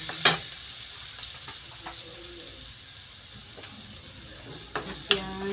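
Garlic fries in a pan for sardines, making a soft, steady sizzle with occasional clinks and scraping stirs, fairly close and alone.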